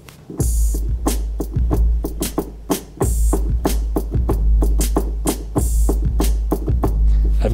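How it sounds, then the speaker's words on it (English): A bright, metallic TR-808 cowbell sound on a Roland JUPITER-50 plays a syncopated pattern over a booming kick and crisp hi-hats, loud and steady with no talking. "TR-808 cowbell."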